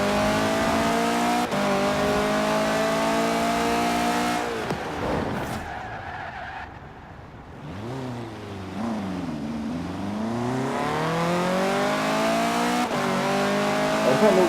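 A KTM X-Bow GT4 in Forza Horizon 4 revs and accelerates with a loud, buzzing engine note that rises through the gears, dips during a brief pause, then climbs again with tire squeal as it pulls away.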